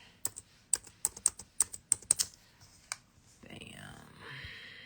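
Keys on a computer keyboard clack in a quick, uneven burst of about a dozen close, crisp strokes while an online grant application form is filled in, then the typing stops and soft rustling takes over.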